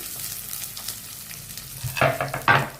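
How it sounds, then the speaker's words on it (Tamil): Small shallots and curry leaves sizzle in hot oil, with a steady frying hiss and two louder bursts of stirring near the end. "வெங்காயம் வந்து ஓரளவுக்கு வதங்கட்டும்"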